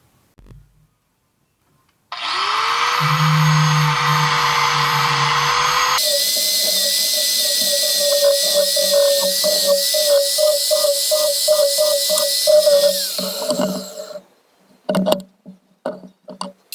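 Power sander with 120 grit working imperfections off the top and bottom of a vintage Crescent wrench, a loud high-pitched motor whine that shifts pitch partway through, with a grinding buzz under the whine and brief clatter as it stops.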